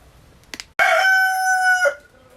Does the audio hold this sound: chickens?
yes